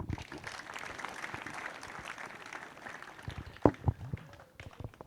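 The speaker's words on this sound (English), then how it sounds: "Can we give them claps?" Audience applause at a high school alumni day, moderate clapping spread across the crowd with a few sharper close claps toward the end, mixed with background voices.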